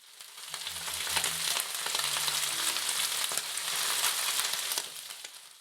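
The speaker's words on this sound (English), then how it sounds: "And stir fry until everything combines." Pork stir-fried with red paprika and oyster sauce in a hot pan, a steady loud sizzle with scraping stirring clicks running throughout, swelling and easing slightly without any voices.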